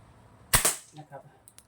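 A slingshot gun with a rubber band and laser sight, barrel-type or slide design, fires one sharp loud snap followed by a softer clatter of the ball landing, close by, then faint quiet ticks.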